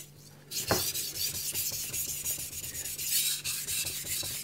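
Kitchen knife dragged in repeated back-and-forth strokes across a Naniwa Gouken Kuroto 1000-grit whetstone, a close gritty rasping with a sharp scrape near the start, no voices.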